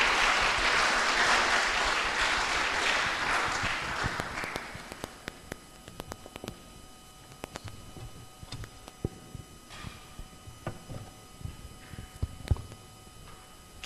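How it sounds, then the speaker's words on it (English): Seminar audience at a philosophy school anniversary celebration gives a warm round of applause for the moderator, dense clapping that fades out after about four seconds, leaving scattered isolated claps and faint room sounds. "Now let us welcome our moderator, Mbak Dewi, with a warm of applause."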